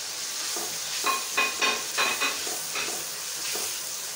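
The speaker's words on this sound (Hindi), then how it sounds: "लहसुन अदरक अच्छी तरह से फ्राई हो गए हैं। हरी मिर्ची और टमाटर डाल दें।" Steady sizzling of garlic, ginger, green chillies and tomatoes frying in a pan, with scraping stirs and soft clinks as a spoon moves through the ingredients.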